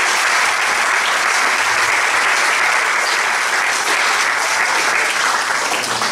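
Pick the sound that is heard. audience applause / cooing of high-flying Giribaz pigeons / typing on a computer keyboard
audience applause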